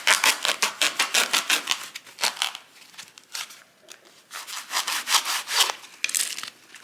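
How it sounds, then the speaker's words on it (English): A foam pool noodle is sawn in half with a blade, a rapid series of loud scratchy back-and-forth strokes, close, with a brief lull midway before the cutting resumes. "And then we're gonna cut it in half."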